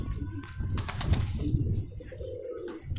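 Pigeons being handled in a loft, with soft cooing and a burst of wing flapping and rustling around the middle, close by and fairly loud, with no speech.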